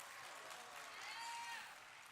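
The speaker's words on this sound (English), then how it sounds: "let's give Shelby a round of applause one more time." Audience applause at a university graduation ceremony on an outdoor quadrangle, a brief, faint spell of clapping that swells slightly and then fades.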